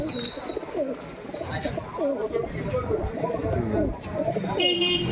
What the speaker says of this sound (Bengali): গিরিবাজ পায়রা দেখো